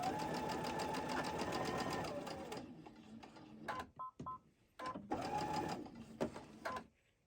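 A sewing machine chain stitches quilt star squares, running steadily for about two and a half seconds and then in short stop-start bursts as the fabric is fed through, close and fairly loud.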